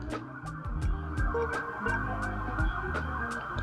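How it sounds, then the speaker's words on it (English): Wailing emergency sirens rise and fall in the distance over a steady low rumble, with scattered sharp clicks or knocks on top. "Please excuse the sirens."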